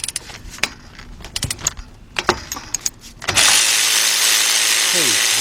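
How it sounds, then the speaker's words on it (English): A ratchet loosening a bolt on a 2010 Honda Accord during front strut and wheel bearing work, several sharp metallic clicks and clanks, then a sudden loud steady whir takes over. "Let's go back to our ratchet. Okay, loosen up that one."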